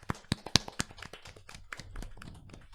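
Scattered hand claps from a small audience, a handful of distinct sharp slaps in an irregular rhythm at first, then thinning into softer patter and murmuring, fairly quiet overall.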